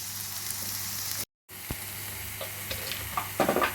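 Onion, ginger, garlic, green chilli and chopped curry leaves fry in hot oil with a steady, close sizzle. The sizzle breaks off briefly, then resumes, with a few light stirring knocks near the end.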